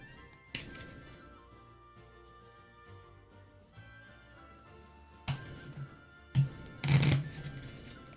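Cards from the Horizon Zero Dawn board game being shuffled: a few soft riffles early, then sharper, louder riffling bursts near the end, close up and without talk.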